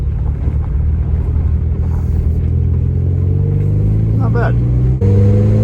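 A 1981 Dodge Challenger engine runs loud and steady with a deep rumble, then revs upward near the end, its pitch climbing. A voice speaks briefly over the engine.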